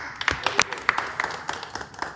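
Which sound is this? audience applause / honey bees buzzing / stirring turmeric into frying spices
audience applause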